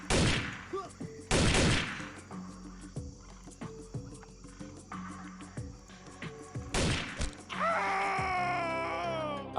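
Shotgun blasts in the turn-based game Xpiratez: two loud sharp shots close together, then scattered clicks and lighter impacts, another blast, and a trailing burst of sharp chirping game effects.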